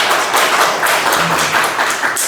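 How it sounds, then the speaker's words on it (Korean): A church congregation applauds in dense, continuous clapping that stays loud and close throughout. "박수 한번 주세요."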